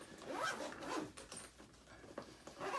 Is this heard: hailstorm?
no